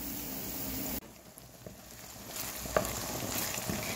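Chopped onion frying in a pan for an onion shakshuka with eggs, a steady moderate sizzle with soft stirring scrapes and a small clink near the end, no voices.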